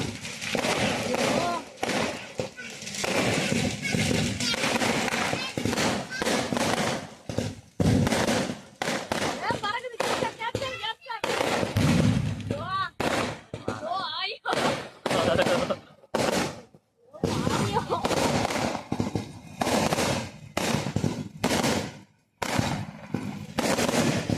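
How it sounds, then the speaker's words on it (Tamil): Loud, dense bursts of crackling explosions from snake firecrackers rattle on almost nonstop, with a few brief pauses and people talking underneath. "பாம்பு வெடிகாய்"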